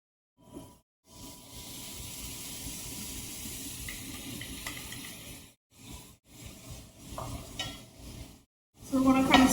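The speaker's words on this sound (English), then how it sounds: "So we're going to kind of stir those around." Black-eyed peas in a pan with liquid from diced tomatoes sizzle loudly and steadily while a utensil stirs them, with brief pauses, scraping and a louder clatter at the end.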